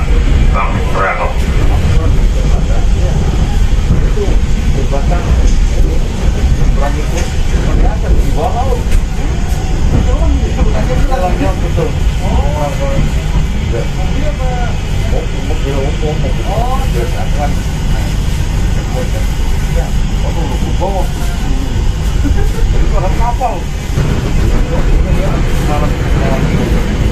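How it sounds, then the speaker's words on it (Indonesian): Interior of the KA Pangrango passenger train running between Bogor and Sukabumi, a loud continuous rumble and rolling drone with onboard voices talking faintly over it. "Selamat datang di kereta Pangrango."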